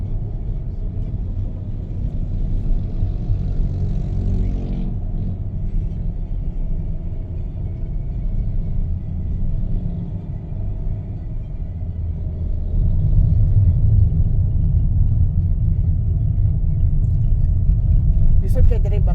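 A jeep drives along a road toward Sirao Garden in Cebu, heard as a continuous low engine rumble and road roar that swells louder in the latter half, with voices talking over it.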